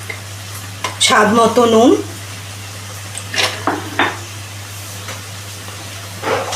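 Spice masala for egg curry sizzles as it is stirred and fried in a pan, with a steady low hum and a few scraping stirs while a person talks over it.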